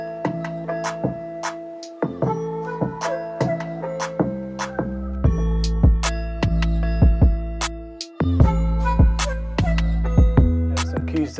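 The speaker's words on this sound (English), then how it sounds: "Add some nice flutes, sound something like this." A trap beat made in FL Studio, with a flute melody layered over it: loud, punchy drums and deep bass under a bright, repeating melodic line, with no talking.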